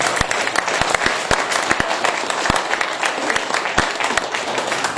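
A crowd at a political speech claps and cheers, a dense, loud patter of applause with sharp individual claps standing out near the listener, while voices murmur underneath.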